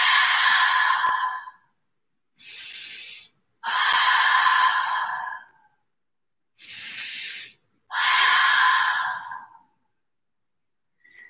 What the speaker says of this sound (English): And 3 full rounds of open mouth exhales.